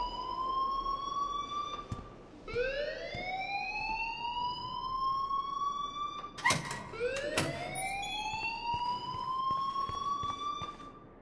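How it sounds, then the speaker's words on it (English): A school fire alarm wails in the video game Life is Strange, repeated rising siren sweeps with short gaps between them, moderately loud and heard on its own without talk. "please turn off that alarm since that's your job"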